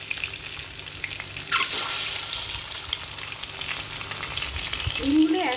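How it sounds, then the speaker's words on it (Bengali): Boiled duck eggs frying in hot oil in a wok, a steady loud sizzle throughout with occasional stirring scrapes near the end. "তাহলে ডিমগুলো ভালো ভাজা হবে"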